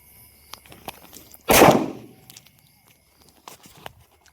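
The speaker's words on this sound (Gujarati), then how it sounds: "અને આવડા હજી ફટાકડા ફોડે." Firecrackers set off a few days after Diwali: one sharp loud bang with a crackling tail, surrounded by scattered faint clicks and distant pops.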